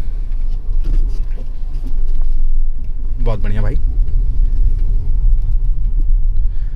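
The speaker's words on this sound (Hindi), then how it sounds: "ये डीजल गाड़ी है" A diesel car accelerating in second gear during a driving lesson, a loud steady engine rumble with road noise that swells slightly partway through, while someone speaks briefly over it.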